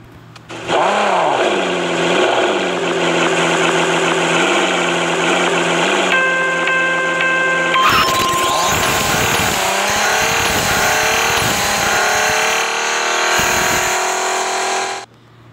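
A 2016 Hyundai Veloster Turbo engine launches in a racing video game, revving loudly with rising and falling pitch, then a harsh, sustained roar of acceleration with sharp gear-shift breaks, close and alone without talk.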